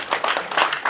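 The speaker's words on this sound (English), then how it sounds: "Let's give him a round of applause for that vision," A brief burst of audience applause at an afternoon session of a blockchain summit in Palau: dense, overlapping hand claps, close and fairly loud.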